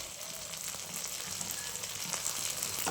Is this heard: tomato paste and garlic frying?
yes